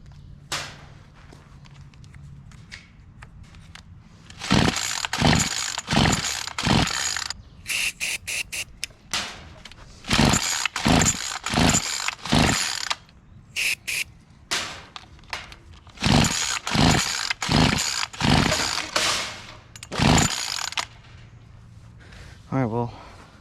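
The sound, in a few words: trying to pull-start a weed wacker with starting fluid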